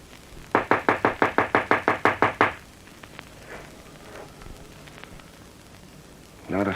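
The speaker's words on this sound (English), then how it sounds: "Knock on the back door." Knuckles rap on a back door, about a dozen quick, evenly spaced knocks in one loud close burst, followed by quiet room tone, faint footsteps and a brief voice at the end.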